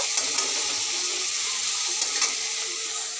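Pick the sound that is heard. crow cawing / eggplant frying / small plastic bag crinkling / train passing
eggplant frying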